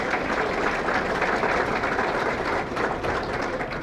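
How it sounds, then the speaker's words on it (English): Sustained applause fills a sports hall of fame banquet room, a dense, even clapping from a large seated crowd lasting throughout. "How about another round of applause for Pat Mundy?"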